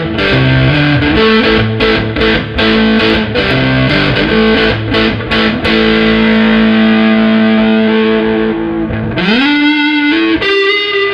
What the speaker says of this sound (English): For example, I do have a Russian Big Muff.